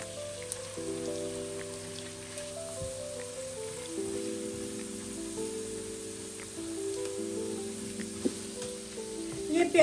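Onions frying in one to one and a half cups of oil in a pan, a steady close sizzle and crackle running throughout, with faint tonal background music and no talk.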